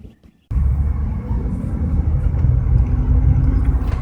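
A pickup truck drives along a country road, its engine a steady low rumble heard from inside the cab, starting abruptly after a brief quiet moment and holding constant.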